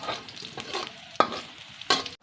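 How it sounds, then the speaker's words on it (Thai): Fish balls and garlic stir-fried in a wok, with repeated brisk scraping strokes of the spatula over loud sizzling, several sharp clanks, ending abruptly. "เราจะผัดลูกชิ้นกันจ้า"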